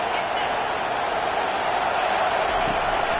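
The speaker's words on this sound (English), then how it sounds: "This crowd trying to make life miserable for this offense." Steady roar of a football stadium crowd, loud and continuous throughout as a broadcast commentator talks over it during an offensive drive.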